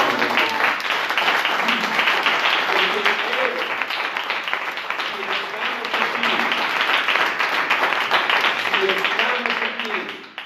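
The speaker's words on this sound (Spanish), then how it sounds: "Dale un aplauso al Señor" A church congregation claps in praise to the Lord during a Spanish-language sermon, a sustained, even wash of applause with voices and cheers mixed through it from start to finish.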